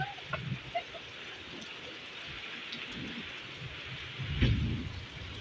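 Heavy rain pours steadily in Riyadh, Saudi Arabia, a dense hiss with spattering drops close by and a brief louder rush near the end.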